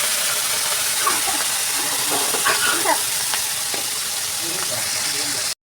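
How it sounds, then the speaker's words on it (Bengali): Salted, turmeric-rubbed prawns hit hot oil in a pan and fry with a steady loud hiss and sizzle, scattered crackles popping through it before a sudden cut at the end. "তেলটা গরম হয়ে গেছে, এবার চিংড়িগুলো দিয়ে নেবো।"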